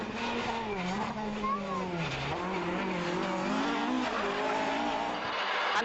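A 2.4 Ford Escort rally car drives fast on a stage, its engine note rising and falling through gear changes with tyre noise, close and loud throughout.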